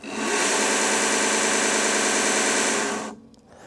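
A small grinder motor runs at very slow speed, giving a loud, steady whirring hum close by for about three seconds before it winds down and stops.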